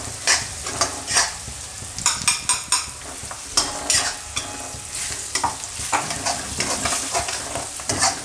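Ground spice masala hitting hot oil for an instant green chili pickle, a loud continuous sizzle under frequent rhythmic spoon scrapes and clanks on the pan, close up, no talking.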